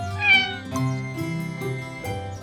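A cartoon kitten from an animated children's series about helper cars gives a string of high, tonal meows, several short cries in quick succession, clear and close with no talk over them.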